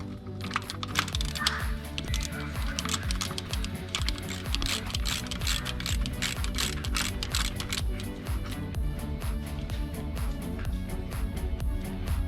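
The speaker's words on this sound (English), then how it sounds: "So we have a wrench, size 17. Let's get this oil out." A 17 mm wrench loosens the oil drain plug on a 2001 BMW 330xi with a 3.0L inline six. It gives a steady run of rapid, close ratcheting clicks, faint but continuous, with no talking.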